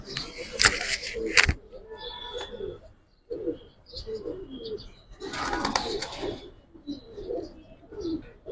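Giribaz and coloured pigeons coo and flutter in a loft, with soft throaty calls and bursts of wing noise nearby while people talk over them.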